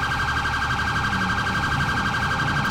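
A loud electronic police siren from the LCPD First Response mod for a video game wails continuously in a fast, repeating warble, steady and close with no voices.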